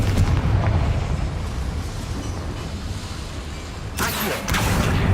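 A Confringo spell blast goes off in Hogwarts Legacy inside a small mine, a loud rumbling roar that is joined by a sharper burst of fiery crackle near the end.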